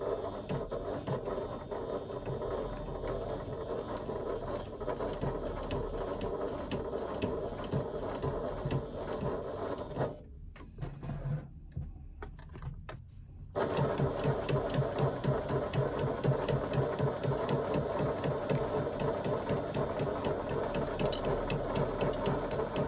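Sewing machine stitching the side seams of a sewn piece with a 3/8 inch seam allowance, a fast even mechanical rattle running throughout, pausing briefly midway, then resuming louder and steadier.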